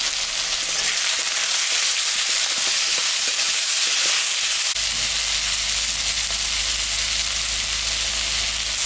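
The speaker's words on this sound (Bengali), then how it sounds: "আলু আর বেগুনটা আমি ভাজা ভাজা করে নিলাম।" Potato and eggplant pieces, salted and dusted with turmeric, fry in a pan with a steady close sizzle and hiss throughout; a low hum joins halfway through.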